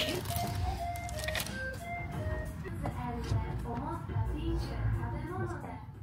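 Tinkling melodic background music plays in a souvenir shop in Ho Chi Minh City, Vietnam, with people talking over it and faint room noise throughout.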